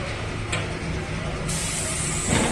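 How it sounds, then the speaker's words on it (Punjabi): A steady, close hissing spray of paint onto a 65EPI tractor runs throughout, with a brief bright burst early on and a sharper, louder jet of spray starting partway through. "ਫੁੱਲ ਪੇਂਟ ਹੋਣ ਡਿਆ ਟਰੈਕਟਰ"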